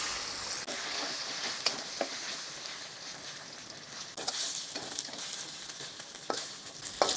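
Chicken pieces fry in a little over half a cup of hot oil for chicken chilli onion, giving a faint, steady crackling sizzle with occasional sharper pops.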